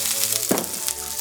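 Butter dropped into a hot pan gives a loud, continuous hiss and crackle that fills the whole moment, with one brief sharper burst partway through.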